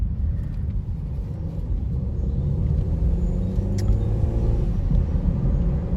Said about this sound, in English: this might be wide enough for me to do a U-turn